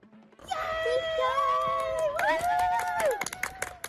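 A small cheering section at a law enforcement torch run whoops and wails encouragement at a passing runner, with high sustained shouts, a few claps and footsteps up close.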